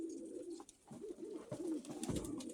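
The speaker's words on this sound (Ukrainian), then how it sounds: "От така моя голубочка сиза." Pigeons coo in low, rolling phrases, several overlapping calls repeating steadily at close range with a faint background hiss.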